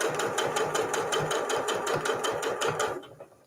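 A sewing machine stitches a seam on a fabric mug cozy, a fast steady rhythmic chatter of the needle close by that runs continuously, then stops and fades.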